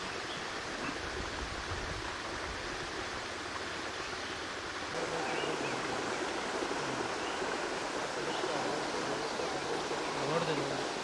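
Water pours steadily into a paddy field being flooded for the rice crop, a continuous broadband rush that grows slightly louder midway, with faint background sounds and possible distant voices.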